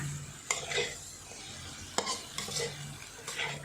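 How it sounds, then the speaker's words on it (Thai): Spaghetti with shrimp stir-fried in a pan: a soft background sizzle broken by repeated sharp scraping strokes of a spatula against the pan. "ก็ผัดให้ทั่วนะคะกินหอมมากเลย"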